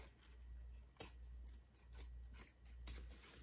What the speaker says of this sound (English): These dull scissors that need to be in trash can.